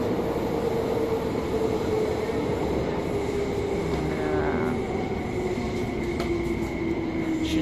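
Metro subway train riding on a long train, heard from inside the car: a steady, loud rumble of wheels and motor with a faint whine and occasional squeals, continuous and without talk.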